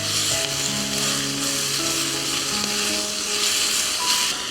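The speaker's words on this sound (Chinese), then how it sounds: "现在重新把牛肉放进去， 快速翻炒。" Beef stir-fried fast in a pan gives a steady, close sizzle with a rougher edge as it is tossed, and a faint tonal hum runs underneath.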